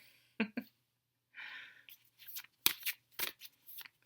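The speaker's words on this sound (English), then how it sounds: "I'm just sitting here shuffling away in my own little world." Tarot cards are shuffled in short riffling bursts and soft snaps, close up and quiet, with brief pauses between rounds.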